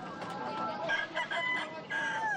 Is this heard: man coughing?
no